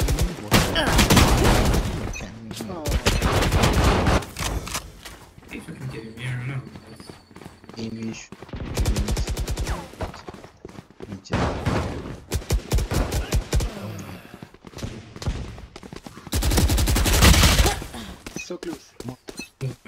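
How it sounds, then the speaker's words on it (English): Gunfire in a video game deathmatch: loud rapid bursts of automatic shots in several clusters with pauses between them, mixed with excited player voices talking over the action. "He's using a skill gun."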